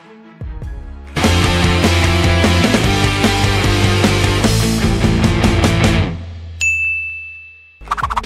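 A bright, loud chime sound effect for a notification bell, a dense ringing cluster that swells and then cuts off, followed by a single clear sustained ding and a short tail of further chimes.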